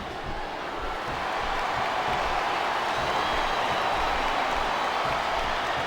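A wrestling crowd cheers and chants in a broad, continuous roar that rises slightly after the first second and holds steady, moderately loud and without clear individual words.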